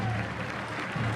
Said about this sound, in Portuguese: o Isaac muito aplaudido